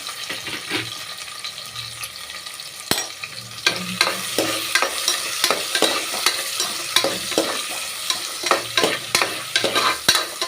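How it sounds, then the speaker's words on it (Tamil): Chopped onion and green chillies sautéing in a pan for coconut rice, with a continuous sizzle punctuated by frequent sharp scrapes and taps of a spoon stirring, close and clear without voices. "இப்போ ஒரு பெரிய வெங்காயம் இப்படி கட் பண்ணி வச்சுருக்கிறேங்க, அதையும் சேர்த்துக்கிறேன்"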